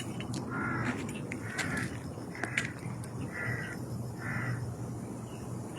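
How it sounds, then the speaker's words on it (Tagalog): Several harsh crow caws repeat at a fairly even pace on a hiking trail in Taipa, Macau, moderately distant over steady outdoor background noise, with no talking. "Hindi ako natantanan ng uwak na yan ha."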